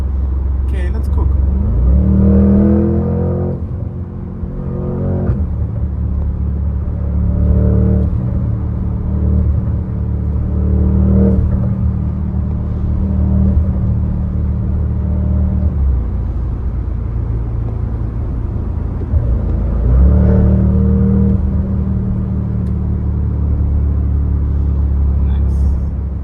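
A 2025 Porsche Cayenne Turbo GT accelerates on a road in Dubai. The engine rumbles steadily and rises in pitch twice with strong revving, heard loud from inside the cabin throughout.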